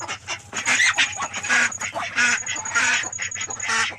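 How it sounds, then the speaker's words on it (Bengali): Ducks and hens crowd a poultry room, filling it with a steady jumble of overlapping quacks and honking calls, close and loud throughout with no pause and no talking. "এই যে এগুলো হাঁস, হাঁসের ডিম, মুরগির ডিমও আছে।"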